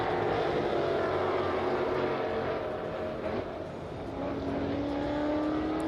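Ford Mustang race cars roar along the front straightaway at Lime Rock Park, a sustained loud engine drone with a rising tone as one car accelerates past, under faint commentary.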